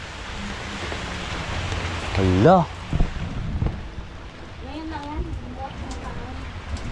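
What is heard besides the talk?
heavy rain with thunder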